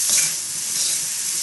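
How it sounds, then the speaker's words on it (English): Smoked, precooked ham hock frying in a pan for fried rice, a steady close hiss of sizzling fat with a light stirring scrape near the end. "So this is basically just to start the heating process with the ham."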